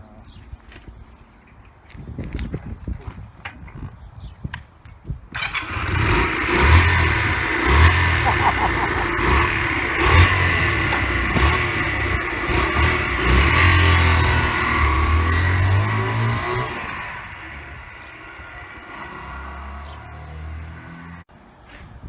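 Engine of a 1983 Honda CM125C motorcycle, a barn find with a carburettor needing adjustment, runs close by with an uneven, wandering idle that rises and dips for about twelve seconds before dying away, preceded and followed by clicks and handling noises.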